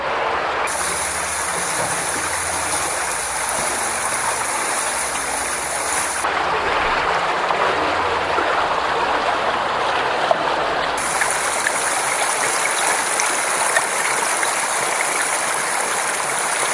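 Stream water runs down a small weir inside an old tunnel, a continuous close rushing and splashing roar, steady and fairly loud, with no voices.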